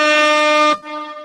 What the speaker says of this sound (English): I'm about to give all y'all air horns.